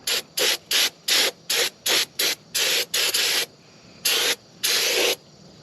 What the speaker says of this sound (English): A can of brake clean is way cheaper.